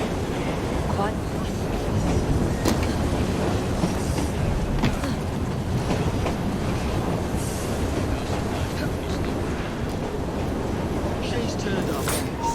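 Steady rumbling of a moving train in Assassin's Creed Syndicate, a continuous low roar with occasional clanks and hiss throughout, with voices speaking over it.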